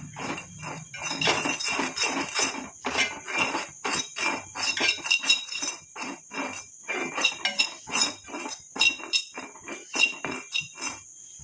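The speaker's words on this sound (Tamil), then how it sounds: "நல்லா குறைச்சி வச்சு நம்ம இதை வந்து ஃப்ரை பண்ணிக்கலாம்" Herbal hair-dye powder being dry-fried and stirred in a pan over a low flame, a spoon clattering and scraping against the metal in quick, busy, continuous strokes at close range.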